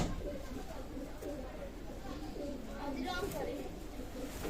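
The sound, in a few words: Pakistani high-flying pigeons cooing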